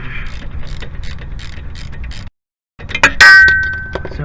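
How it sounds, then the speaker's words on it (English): A T45 socket on a ratchet breaks loose brake bolts on a Jeep WJ with ATE brakes, close rapid clicking and metallic clatter, a brief pause, then a sharp clank and ringing metal. "T45 socket. Just break them loose."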